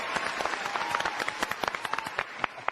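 Brief audience applause during a Hindi TV comedy, scattered overlapping claps, fairly faint and steady for a few seconds.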